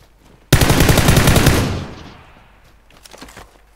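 Loud automatic gunfire in the battle royale game PUBG rattles off in one long burst that fades into a lingering echo, followed by a few quieter shots.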